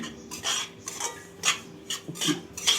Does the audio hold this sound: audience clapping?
no